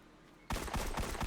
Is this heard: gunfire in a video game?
yes